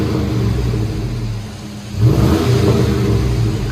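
A 2001 Chevy Tahoe 5.3L V8 on a Flowmaster Flow FX exhaust idles with a low rumble, then revs once with a sudden loud rise and holds a raised, throaty drone, with rain in the background.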